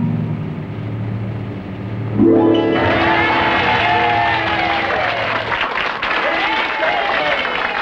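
Studio audience applause on a 1970s TV variety show breaks out suddenly after a lull and continues as a steady dense clatter of clapping for several seconds.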